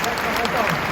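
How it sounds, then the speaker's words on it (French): Audience at a live stand-up comedy show clapping in a steady, close wash of applause, with a voice talking over it. "On peut applaudir Adam, s'il vous plaît"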